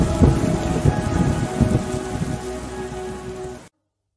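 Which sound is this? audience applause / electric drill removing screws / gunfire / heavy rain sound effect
heavy rain sound effect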